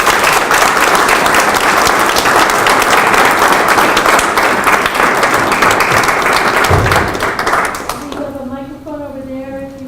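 Audience applause at the end of a talk on peace in Sudan and South Sudan: a dense, steady roar of many hands clapping in a hall, loud and close, tapering off near the end as a voice begins to speak.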